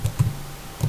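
Short burst of computer keyboard typing while a file name is entered, a few quick distinct key clicks up close and alone, with a pause before the last keystrokes.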